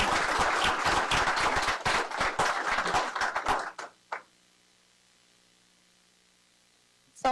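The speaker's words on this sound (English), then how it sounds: "Everybody give her a round of applause." A lecture audience at a medical seminar on bladder cancer gives a round of applause, a burst of close, distinct hand claps lasting about four seconds that stops abruptly and leaves near silence.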